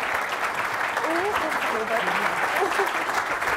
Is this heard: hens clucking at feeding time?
no